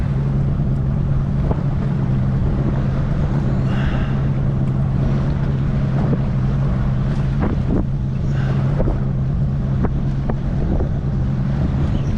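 Strong wind of about 15 knots buffets the microphone aboard a small boat on choppy, whitecapped water, a steady loud rush with a low engine-like drone underneath and occasional wave slaps, no talking.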